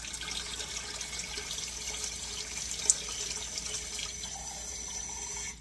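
Cold tap water runs steadily into a jar or sink while bread flour starter is being fed, a continuous close hiss and splash with a brief sharper splash midway and no talking.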